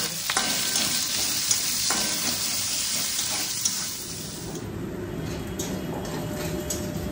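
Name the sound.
chopped onions frying in a pan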